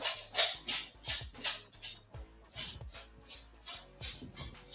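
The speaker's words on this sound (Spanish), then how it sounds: "Y si escuchas algo de ruido, no te preocupes. Son mis cachorros, ¿ok? Son mis perritos." Puppies bark, yip and whimper close by in a series of short, uneven high-pitched cries, with a few brief pauses between bursts.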